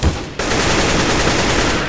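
Sustained automatic gunfire from a Counter-Strike: Global Offensive round, a loud dense spray that starts just after a brief lead-in burst and continues steadily without pause.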